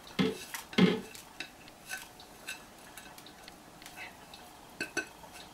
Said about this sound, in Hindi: चीजों को ऐड करें और इसे हम मिक्स कर लेते हैं।